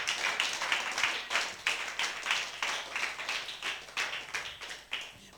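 A church congregation clapping together in a steady rhythmic beat, many hands in unison, sustained and moderately loud throughout.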